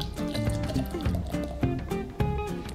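Beer poured forcefully into a glass so it foams, giving a gurgling, splashing liquid rush with a few glugs, close and fairly loud.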